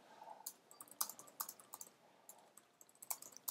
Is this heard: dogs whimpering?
no